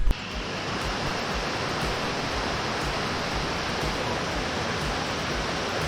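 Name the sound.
running water on a hiking trail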